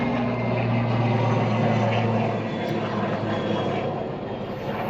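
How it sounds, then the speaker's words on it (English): Aircraft and helicopters passing overhead near a G20 gathering, a steady loud droning rumble with a low engine hum that holds through the whole stretch and eases slightly toward the end, with no voices. "there's been like helicopters and planes the whole day"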